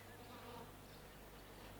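A soft, steady drone of buzzing bees fills the air, a faint, continuous insect hum with a low mains-like undertone, no voices present.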